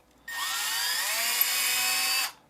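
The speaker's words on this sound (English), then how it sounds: "So what we use is a little drill." A small power drill whines steadily at high pitch for about two seconds, enlarging a bolt hole, starting and stopping abruptly, close up with no voices.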